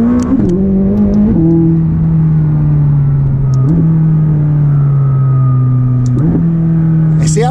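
A McLaren 600LT sports car driven hard on twisting roads, its engine droning loud and close from inside the cabin, pitch stepping up and dropping with quick gear shifts and bursts of acceleration through the bends.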